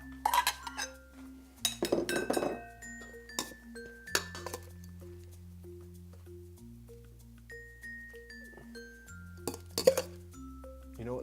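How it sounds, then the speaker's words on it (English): Stew is ladled into ceramic bowls, with sharp clinks of a metal spoon or ladle against dishes coming in irregular bursts between quieter pauses, close and clear. "Let's grab a couple bowls and dish this up"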